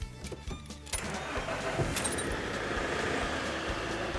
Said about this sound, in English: we can then start the engine